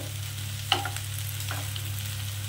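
Shrimp for chingri posto fry softly in a pan, a gentle, even sizzle with one brief clink of a utensil early on.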